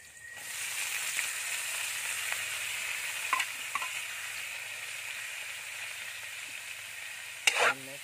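Bamboo shoot (dabong) sizzles steadily as it is stir-fried in a pan, a soft continuous frying hiss broken by a few light utensil taps and a sharper scrape near the end.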